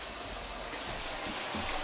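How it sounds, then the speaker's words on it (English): Water pours into a pot of Jamaican stew chicken with potato and carrot, a steady close rushing gush that continues throughout without talk. "So I'm just gonna add a little bit more water."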